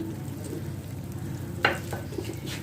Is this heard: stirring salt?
yes